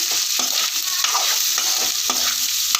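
Onions being stirred as they fry in a pan for a fish curry, with rhythmic scraping strokes over a steady, close sizzle and no talk.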